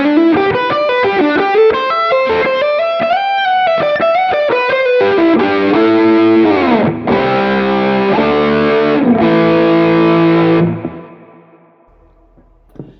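Distorted electric guitar lead through a Yamaha Magic Stomp amp capture, fast legato runs giving way to sustained chords with chorus and echo, then ringing out and fading to near silence.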